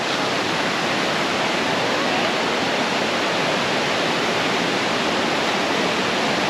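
Mae Ya waterfall in Chiang Mai roaring as a dense, steady wash of falling water, loud and unbroken throughout.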